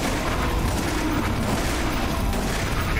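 Shotgun fire against zombies in the Resident Evil video game, a dense run of booming blasts over about three seconds with no talk.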